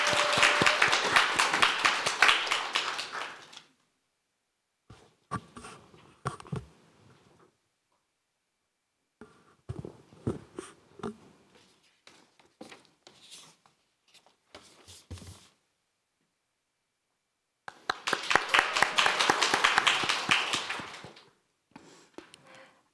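Brief bursts of audience applause at a youth speech contest final, opening with a loud clapping wave, then scattered sparse claps and handling noises, and a second strong round of applause near the end.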